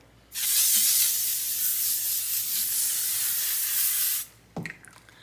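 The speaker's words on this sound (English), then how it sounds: "I'll go ahead and set with the L'Oreal Paris Infallible 3-second misting spray" A steady, close hiss of a makeup setting spray misting onto a face, held for about four seconds, then stopping abruptly, followed by a few faint handling noises.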